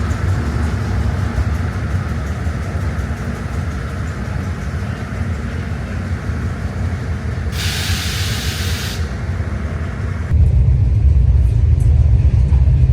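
Morning train from Aswan to Luxor rumbling steadily along the line, a constant loud broadband roar with hissing, a burst of brighter hiss midway and a heavier low rumble near the end.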